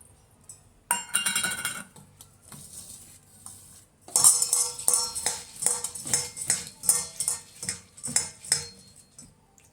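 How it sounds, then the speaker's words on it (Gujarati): Metal clinking and clattering from a pot as flattened rice (poha) is rinsed by hand for Gujarati batata poha, in short uneven bursts that grow busier and more rhythmic in the second half, close up with no talking. "હવે આ પૌવાને આપણે ધોઈ લઈશું"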